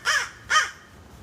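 A crow gives two harsh, close caws about half a second apart, then falls quiet against faint outdoor background.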